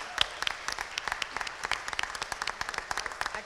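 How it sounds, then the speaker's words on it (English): An audience at a school certificate ceremony gives a round of applause for student presenters, a steady patter of many clapping hands heard at a moderate distance. "Can we have one final round of applause for our student presenters?"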